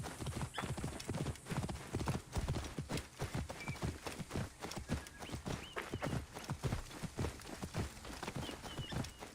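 Horse hooves clip-clop steadily through the whole stretch in Assassin's Creed Origins, a brisk even walking rhythm that is fairly loud and close, with no talk over it.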